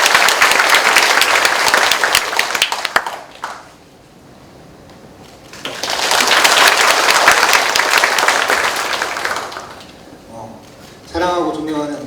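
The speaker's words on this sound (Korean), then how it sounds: "큰 박수 부탁드립니다" Loud applause from a crowd at a university staff meeting, sustained for a few seconds, dipping briefly, then swelling again before fading as a voice begins.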